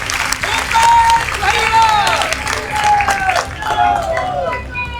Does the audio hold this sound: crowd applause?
yes